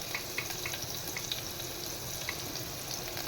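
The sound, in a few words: onion sizzling as it is added to hot tempering oil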